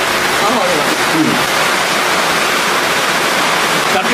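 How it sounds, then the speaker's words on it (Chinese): Heavy rain roars steadily and loudly throughout, a dense wash of noise with faint voices briefly audible underneath. "下这么大雨，吓我一跳"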